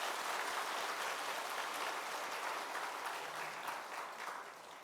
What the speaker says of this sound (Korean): 우리 건축위원들을 위해서 큰 박수로 감사하겠습니다